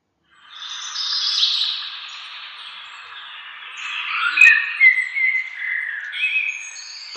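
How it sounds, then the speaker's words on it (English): A bird calls in a long, warbling stretch of bright, high chirps and whistles, steady at first and then breaking into louder, choppier bursts toward the end, heard alone and fairly close. "It is a bird."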